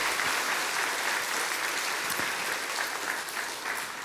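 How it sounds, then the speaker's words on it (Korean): A Sunday worship congregation at a Korean church claps in welcome, producing a thick, continuous roar of hands at moderate distance that holds steady from start to finish with no talk over it. "우리 한번 이렇게 인사할 때 여러분 박수를 한번 쳐줬으면 좋겠습니다"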